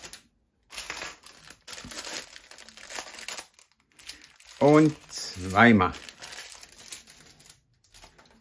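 Plastic bag of Lego Ninjago pieces for the Overlord figure crinkling in short bursts, moderately close, with a person talking between and over the rustling.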